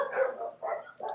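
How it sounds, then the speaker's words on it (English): A neighbour's dog barks three times outdoors in a spaced rhythm, moderately distant and fairly faint. "So this is my neighbor's dog's barking."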